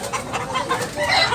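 Gamefowl roosters cluck in short, repeated, moderately loud notes against a busy outdoor background, with no talk.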